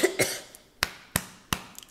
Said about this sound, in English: I start coughing and wheezing when I hear some tomfoolery